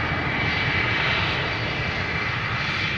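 A KLM Embraer 190 airliner on the ground at Amsterdam Schiphol gives off a steady, loud jet engine roar that holds level without a break.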